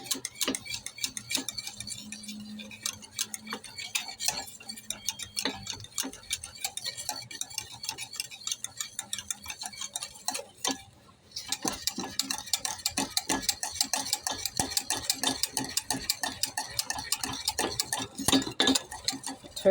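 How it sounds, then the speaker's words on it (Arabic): Butter being stirred in a pot on the stove while making quick flaky-pastry pies, a steady run of light scraping and clinking taps from a utensil against the pot, close and continuous, with a short pause midway. "صافي، نبدا نحرك."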